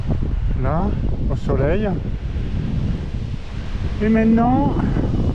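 Gusty wind buffets a microphone on a cyclist riding a gravel descent in the Esteron valley of the Alpes-Maritimes, a rumbling low roar running under someone speaking French throughout.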